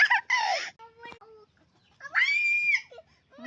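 Chickens clucking on a farm field on a hot afternoon after the sugarcane was cleared: several close, loud, rising clucks and squawks in short bursts with brief quiet gaps between them.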